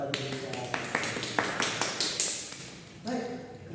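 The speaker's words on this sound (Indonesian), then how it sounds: "beri tepuk tangan pada Pak Disa" Classroom applause for a student during a microteaching Japanese lesson, a quick run of sharp claps that swell and fade over a few seconds, with a voice speaking alongside.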